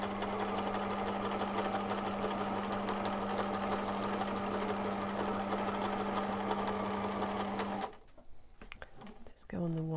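Sewing machine stitching along the top edge of a fabric face covering, a loud, fast, continuous mechanical whir that stops abruptly near the end, leaving quieter handling sounds and a short voice.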